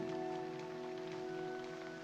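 Steady rain falls in a scene from the 1990 film Misery, a continuous patter heard alone with faint tonal hum from the soundtrack underneath, even in level throughout.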